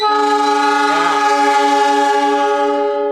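A single long, loud train horn blast from the Papandayan passenger train in Indonesia, a steady rich tone held for several seconds without a break.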